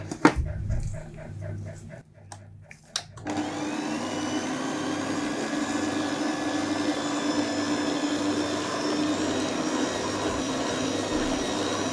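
A Kenwood KHC29 food processor runs at its slowest speed kneading bread dough, a steady loud motor whine and hum after a few seconds of handling clatter.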